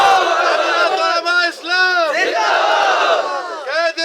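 A large crowd at an outdoor religious-political rally shouts in loud unison with hands raised, repeating a drawn-out chant several times. The swelling roar is close and fills the whole space, broken by brief dips between shouts.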